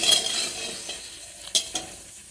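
Oil heats in a pan for fish pakoras, giving a soft sizzling hiss with a few sharp crackles and light clinks, faint and close.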